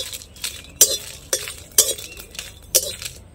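A spoon or metal spatula scrapes and clinks against a hot wok about five or six times in an uneven rhythm while dry red chillies and spices are toasted, with a faint sizzle underneath.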